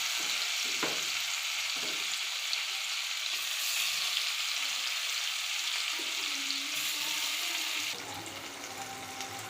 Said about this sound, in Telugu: ఇప్పుడు మనం ఒక్కొక్క పీసెస్ కింద వేసి ఫ్రై చేసుకుందామండి పన్నీర్ని